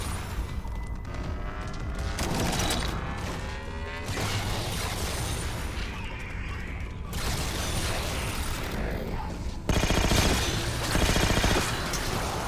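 Suppressed gunfire in a video game, dense bursts of rapid muffled shots and mechanical clatter repeating across the stretch, loud and continuous with short breaks between volleys.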